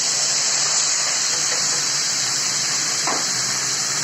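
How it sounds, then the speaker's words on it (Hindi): Onions and cumin frying in hot oil in a kadai make a steady, close hiss and sizzle that stays continuous throughout, with a brief stir or clink partway through. "तो अब ये कढ़ाई में तेल ले लिया है, इसमें थोड़ा जीरा डालकर अब हम इसमें प्याज डाल देंगे।"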